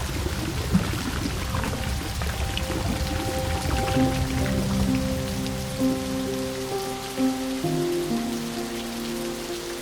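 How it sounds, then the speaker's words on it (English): Steady rain pours and patters onto surfaces and water beside an old watermill in a Cotswolds village, a dense, close hiss with no talking and a faint sustained tone layered in partway through. "Wow, the sound of this water and the rain."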